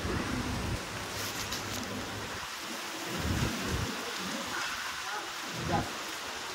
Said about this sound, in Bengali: তো তোমরা দেখলে কীরকম বৃষ্টি হচ্ছে